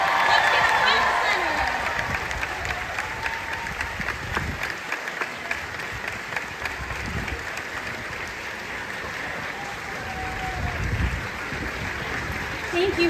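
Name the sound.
theater audience applause and cheering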